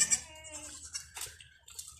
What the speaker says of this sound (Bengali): আমার একটা খাসি ছাগলকে